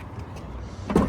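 The powered rear trunk of a 2025 Rivian R1T dual-motor electric pickup hums briefly as its motor drives the lid closed, a close, smooth whir ending in a soft latch thump.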